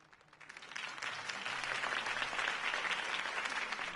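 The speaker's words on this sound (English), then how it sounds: "could have heard that applause" A crowd in Batman: The Telltale Series bursts into applause that swells within a second and holds steady, a dense wash of many hands clapping.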